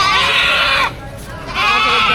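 Goats at a livestock market bleat loudly and close, with one long quavering cry, a short pause, then another strained bleat starting up.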